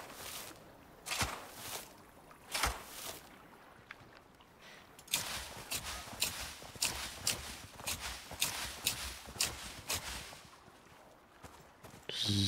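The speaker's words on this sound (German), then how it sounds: "Ich höre ein Pferd" Hoofbeats of horses in the survival video game ICARUS, a quiet series of clip-clop steps that grows busier after a brief lull, with no talk over it.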